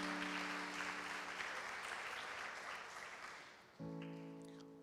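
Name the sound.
congregation applauding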